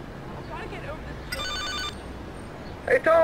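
A telephone rings in the video game Liberty City Stories, one short electronic ring burst that stands clearly above quiet background sound, followed by the start of another ring as a voice begins.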